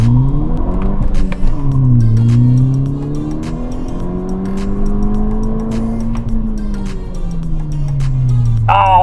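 A Mk6 Volkswagen GTI on Firestone Firehawk Indy 500 tires launches at 4,000 RPM and pulls hard through the gears, the engine note rising and dropping with each shift, loud and continuous from start to finish.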